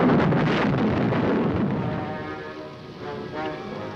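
Heavy rain pours during a storm with lightning, a dense, loud hiss that thins slightly midway and carries on steadily without any voices.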